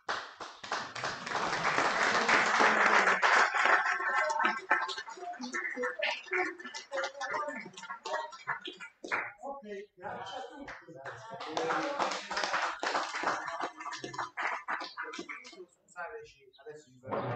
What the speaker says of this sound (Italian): Facciamo un applauso a tutti.